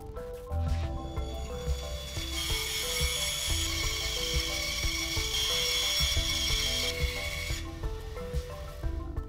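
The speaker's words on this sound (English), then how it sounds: "After cutting those pieces out on the bandsaw, I clamped them together again and did a few extra cuts." A bandsaw cuts through clamped plywood pieces, a continuous close whining, rasping cut that rises in the middle and eases off near the end, with no talking.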